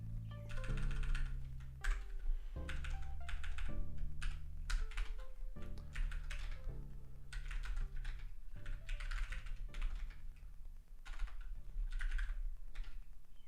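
Fingers type on a computer keyboard in a close, continuous clatter, with dense bursts of keystrokes broken by brief pauses and a low background hum.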